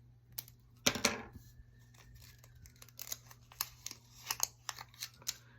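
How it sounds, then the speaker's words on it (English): Scissors snip through paper in a series of quick, close cuts, irregularly spaced, with soft rustling between them. "with your scissors, you're gonna go around it like this"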